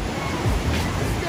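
Sea waves wash onto a beach in a steady low roar, close and continuous, with some wind rumble on the microphone.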